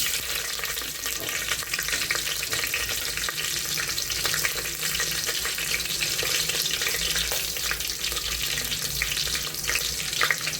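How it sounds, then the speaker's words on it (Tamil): Four green chillies fry in hot oil for mushroom biryani, giving a dense, steady sizzle with a constant hissing crackle throughout, close and loud with no talk. "நெக்ஸ்ட்டு 4 பச்சை மிளகாய் போடுறேன்"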